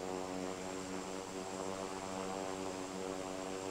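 Aircraft engine in the Infinite Flight simulator game on the crosswind leg of a landing pattern, a steady, unbroken propeller drone with a buzzing tone and even loudness throughout, with no talking.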